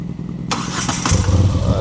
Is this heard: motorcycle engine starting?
yes